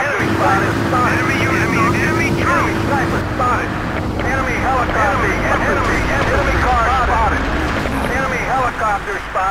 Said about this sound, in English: Enemy helicopter spotted